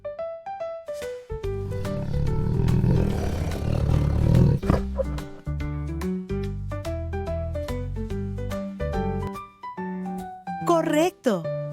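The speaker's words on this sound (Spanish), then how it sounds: "Correcto, es el tigre." A tiger gives a deep, loud, rumbling roar that swells for several seconds over background music, followed by musical notes and a brief bright effect near the end.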